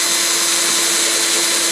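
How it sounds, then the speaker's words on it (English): A power drill bores holes in a knife sheath, giving a loud, steady, close whine that runs unbroken throughout with no talking. "reinforcement in the sheath by drilling a couple of extra holes like this"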